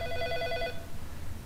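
A telephone bell in the video game Heavy Rain rings in a quick trilling burst for under a second, then stops, leaving quiet background noise.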